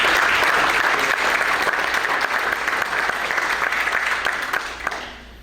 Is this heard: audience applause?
yes